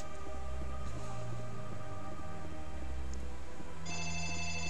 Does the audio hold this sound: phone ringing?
yes